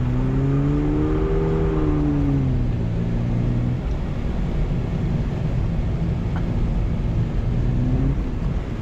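A 2023 Subaru BRZ engine revs hard while drifting on a wet track, rising and falling tones over a loud, steady roar of road and wind noise, heard from inside the car.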